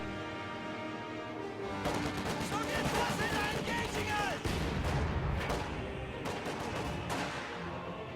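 Sniper gunfire in a strategy video game battle, with sharp repeated shots and crashes mixed into continuous battle noise under a commentator's voice.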